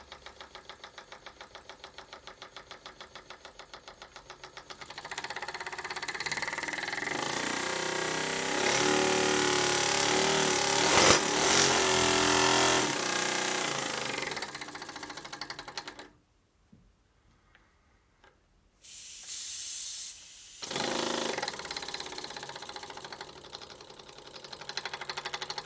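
A small model single-acting oscillating steam engine runs on compressed air, giving a fast, steady mechanical chuffing and rattle that grows louder, stops abruptly for a few seconds, then resumes.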